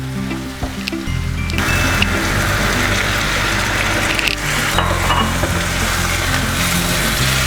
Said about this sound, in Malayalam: അപ്പം മസാല ഒന്ന് യോജിച്ച് വരാൻ വേണ്ടി നമുക്കൊരു 1/4 ഗ്ലാസ് വെള്ളം ഒഴിക്കാം